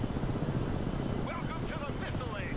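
A CH-53 Super Stallion transport helicopter in the real-time strategy game Broken Arrow, its rotor and engine giving a continuous low rumbling drone throughout, partly under faint voice chatter.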